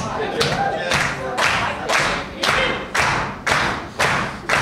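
A crowd stomps on tile floors in a steady beat, roughly two heavy thuds per second, loud and echoing, with some clapping mixed in.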